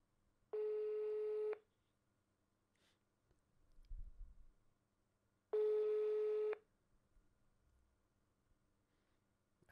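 Two steady telephone ringback tones, each about a second long and several seconds apart, sound during an outgoing phone call, with faint clicks between them.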